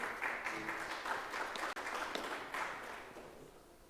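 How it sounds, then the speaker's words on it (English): An audience at an international forum in Morocco applauds as a speaker is called to the stage: steady, dense clapping from many hands fills the room, holding strong before thinning slightly toward the end. "Please give him a big round of applause."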